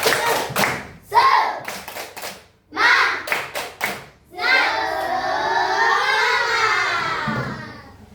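Children clap out the rhythmic tepuk semangat pattern in a classroom, sharp grouped bursts of hand claps, followed by a stretch of voices talking or chanting together.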